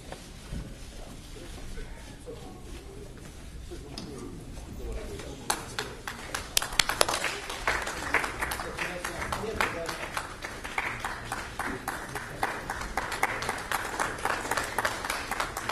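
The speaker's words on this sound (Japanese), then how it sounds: "もう一度盛大な拍手をお願いいたします" Applause from the audience at a Japan Press Club public debate between Democratic Party leadership candidates builds after a quieter opening into sustained, fairly even clapping from a seated crowd, with some talk early on.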